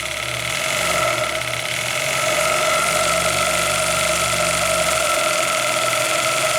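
An Osprey live steam model locomotive picks up speed, giving a steady, dense hiss with a low rumbling chuff underneath, continuous and fairly loud throughout with no talk.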